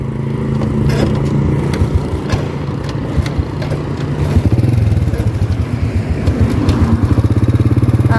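Motorcycle riding along a road in northern Laos, its engine running steadily and close throughout, with the rumble swelling louder in the second half and no voices heard.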